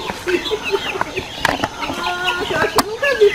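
Chickens and young guinea fowl in a farm coop cluck and cheep in scattered bursts, with sharp peeps, short calls and brief wing flutters close by, over a lively farmyard bed.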